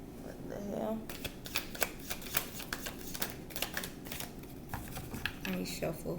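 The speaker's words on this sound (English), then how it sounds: "Let me shuffle." Tarot cards being shuffled by hand, a rapid series of crisp riffling flutters and soft slaps repeating close by, with a voice speaking underneath.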